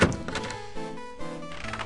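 Unlocking and opening a door in the Quest for Glory 4 computer game: a short, close thunk opens the sequence, followed by further door movement sounds, with no voices.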